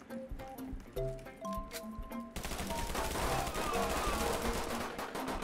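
Rapid bursts of gunfire ring out in a Roblox gore game, starting with scattered shots and then becoming a dense, sustained volley of close, crackling fire.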